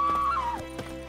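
A horse in The Witcher 3 gives a short neigh with a wavering whinny that falls in pitch, followed by a few soft hoof clops, heard close against a low game-ambience hum.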